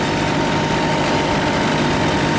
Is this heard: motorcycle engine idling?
yes